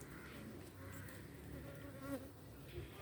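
Honey bees in a hive where nurse bees tend larvae and a new queen is being raised, a dense, steady close-up buzzing and droning, faint but continuous with no speech.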